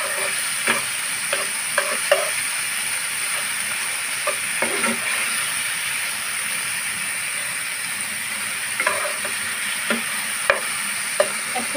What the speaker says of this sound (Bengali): চিংড়ি মাছগুলো দিয়ে আমি একটু ভালোভাবে ভেজে নেব।